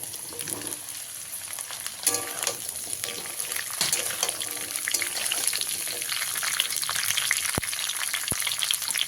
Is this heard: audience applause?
no